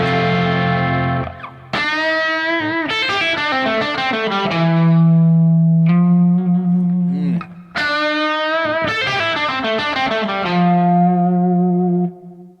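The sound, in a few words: electric guitar with effects playing over chord progression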